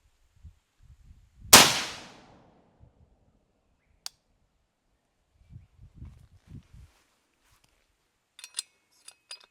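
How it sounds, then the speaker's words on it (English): A single sharp, loud .223 Remington rifle shot fired without a blast jacket cracks out and decays quickly, surrounded by quiet rustling, footsteps and a few small clicks and clinks. "we've got the first round being fired without the blast jacket on"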